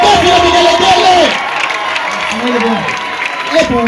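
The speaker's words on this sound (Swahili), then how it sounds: "Ndio maana leta makofi na vigelegele" A church crowd claps and lets out high warbling ululations, with loud cheering and voices near the start that ease into scattered trills and shouts.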